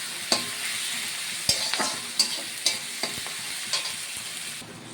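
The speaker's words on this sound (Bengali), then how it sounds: "পেঁয়াজ টমেটোটা দিয়ে নাড়াচাড়া করে সুন্দর করে ভেজে নিচ্ছি" Onion and tomato frying in oil in a pan, stirred repeatedly, with a steady close sizzle and sharp scraping strokes of a spatula at irregular intervals.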